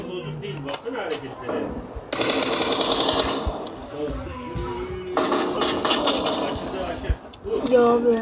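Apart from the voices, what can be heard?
bomb explosion in a video game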